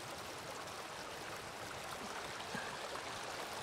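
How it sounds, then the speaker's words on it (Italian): The Farfa river flows in steady, even rushing water on a wet January day, with no talking over it. "Questo ragazzi è il Farfa, il fiume Farfa."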